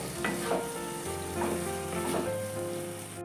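Boiled chicken for chicken bharta sizzles steadily in a hot pan, with a few soft scraping stir strokes rising over the continuous frying hiss.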